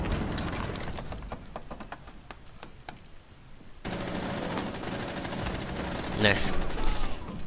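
Rapid bursts of gunfire in a shooting video game, a dense fusillade of automatic shots that cuts out briefly, then returns louder and sustained, with scattered clicks and game effects mixed in.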